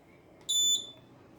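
A single electronic beep from an Arduino-based RFID access control reader as a card is scanned, a short bright tone lasting about a third of a second over a low background hum.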